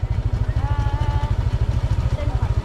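A motorcycle engine idles close by with a steady low, throbbing pulse throughout, while a person talks briefly over it.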